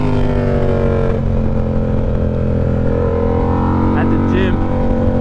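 Yamaha R7 motorcycle engine droning steadily throughout a ride, loud and close with a constant tonal hum, a few brief rising revs near the end, and a voice speaking faintly beneath it.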